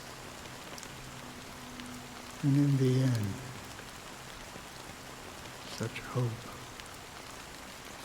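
Steady rain falling across the dream city of Penacony in Honkai: Star Rail, a constant soft hiss that runs through the whole stretch while a voice speaks briefly over it.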